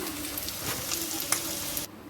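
Bitter gourd pieces fry in a pan with a steady, close hiss of sizzling oil that runs evenly, then cuts off abruptly near the end.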